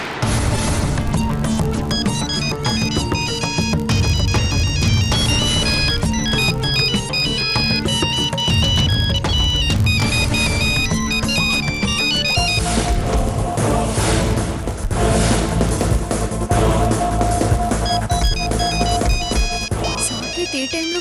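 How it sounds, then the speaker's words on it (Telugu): A mobile phone ringtone plays in a Telugu drama scene, a loud, melodic electronic tune looping steadily for the whole stretch with no voices over it. "సాకేత్ ఏ టైంలో ఫోన్ చేశాడేంటి?"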